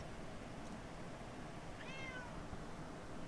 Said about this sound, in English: my calico is just wanting attention right now